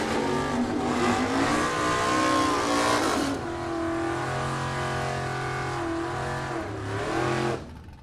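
A '70 Mustang with a 509 cubic inch engine drag races an '82 Firebird in Super Pro bracket racing, a loud, roaring full-throttle run that fades slightly midway and then cuts off near the end.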